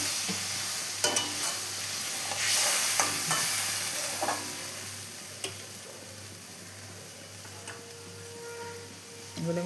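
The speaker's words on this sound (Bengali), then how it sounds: "এখন দিয়ে দিলাম মশলা ধোয়া জলটা।" Spice-washing water is poured into a pan of chital fish curry frying in oil. A soft hissing sizzle runs throughout, broken by scattered clicks and taps of a utensil against the pan, close and fairly quiet.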